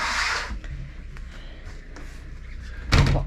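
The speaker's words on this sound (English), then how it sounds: "Lock the door in place." A caravan door swings shut with a soft bump near the start, followed by quiet handling and a sharper, louder latch-and-lock clunk close by at the end, with no talking.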